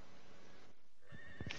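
A horse neighs briefly and faintly at the end, a short whinny rising out of quiet background noise.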